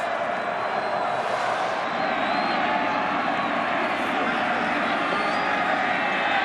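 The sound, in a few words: football stadium crowd cheering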